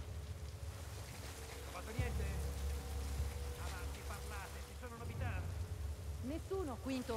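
Rain falling in The Last of Us Part II, a quiet steady hiss and patter beneath a voice that speaks over it, with a low rumble underneath.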